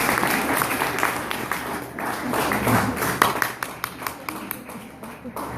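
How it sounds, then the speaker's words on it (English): A live audience claps during a speech, starting as dense applause and thinning into scattered individual claps that slow and fade near the end. "You guys got to keep clapping."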